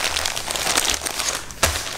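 A crinkly plastic parcel package is handled while being opened, with crumpling and rustling throughout and a sharper crackle near the end, close up with no talking.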